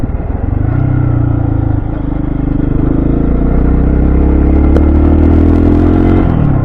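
A KPX 250 motorcycle rides along Route 34, a winding ridge road, its engine droning loudly and continuously as the pitch slowly climbs.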